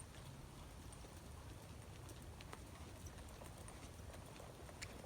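A gaited mare walks under a rider with faint, steady hoof clops that are barely set apart from a constant hiss of background noise.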